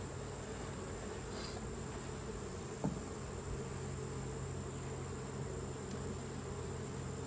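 A steady, dense buzz of honeybees around an open hive hums continuously throughout, droning close by, with one brief knock near the middle.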